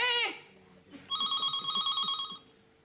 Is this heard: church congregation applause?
no